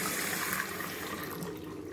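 A bathroom sink tap runs with good pressure, a steady close hiss of flowing water that holds level throughout with no voices.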